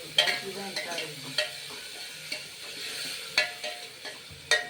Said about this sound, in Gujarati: પછી બધું મિક્સ કરી અને હલાવવાનું છે